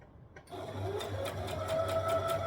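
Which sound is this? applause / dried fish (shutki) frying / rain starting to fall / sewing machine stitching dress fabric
sewing machine stitching dress fabric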